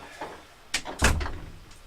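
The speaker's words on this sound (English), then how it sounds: "I'm going to open my door and see if someone knocked on the door." A door being opened at home, heard as a couple of brief knocks and thumps followed by a louder low-heavy bump and rattle, fairly close, with no talking.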